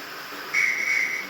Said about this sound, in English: Now we have to wait for the guard's whistle.